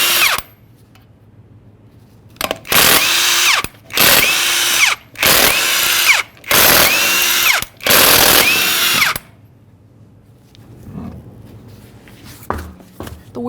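An impact wrench or power tool spins off 22mm lug nuts from a 2007-2013 Chevrolet Silverado 1500 wheel in five loud, close bursts of whirring and hammering, with short pauses between them and quieter clanks and handling noises afterward.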